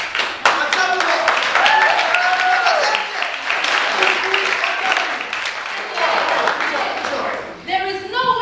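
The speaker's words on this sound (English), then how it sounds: "Please clap for her." Audience applause at a skit performance: dense clapping under cheering voices that stays loud and steady, with a brief dip near the end.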